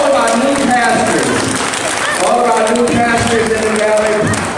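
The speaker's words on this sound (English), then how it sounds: "Let's give our elected officials a round of applause." A crowd at an MLK community breakfast in Pacoima applauds elected officials, dense clapping filling the room while voices carry over it.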